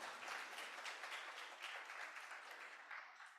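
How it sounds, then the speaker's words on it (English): An audience applauds for a competition judge, a school principal, at a student oratorical contest: steady, dense clapping from many hands, sustained throughout and tapering slightly at the end. "Give him a round of applause."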